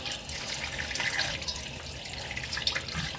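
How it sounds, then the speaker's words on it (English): Water runs steadily from a kitchen tap into a sink as meat is rinsed for Mexican posole, a close continuous splashing hiss with small irregular surges and no talking. "wash your meat, because you don't want it to be all dirty."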